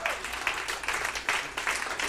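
An audience at a talk claps for the speaker, a brief burst of applause rising and falling in uneven waves over about two seconds.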